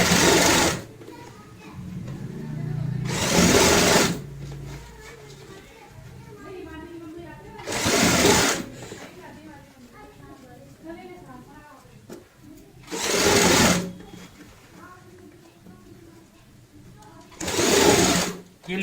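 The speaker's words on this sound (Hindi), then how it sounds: "अब हम यहाँ पे लेस लगाते हैं ऊपर से, क्योंकि हमें यहाँ पे डबल लेस लगानी है।" A sewing machine stitches lace onto a baby girl's designer cap in five short bursts of rapid, close stitching. Someone talks quietly in the gaps between the bursts.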